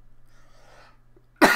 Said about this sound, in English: I did cough into my elbow